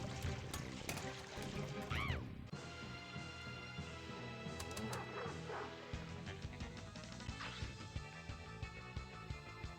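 Dog barking on the Fallout table of Pinball FX3, sharp repeated yips and barks amid bright pinball game effects, music and chimes, with a rhythmic run of short barks toward the end.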